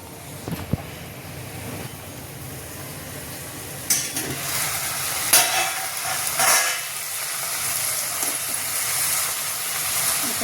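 Chicken cooking in oil with turmeric and salt, steaming and sizzling in a pot for a spicy chicken gravy; a steady close hiss runs throughout, broken by a few sharper crackling bursts midway.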